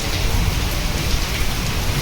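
Heavy rain pours down steadily and loudly throughout, a dense unbroken hiss with a low rumbling undertone, and no voices.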